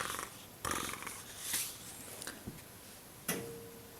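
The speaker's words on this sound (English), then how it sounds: "It's purring." A cat purring softly and close, a low rumbling murmur broken by a few faint ticks and small bumps, quiet throughout.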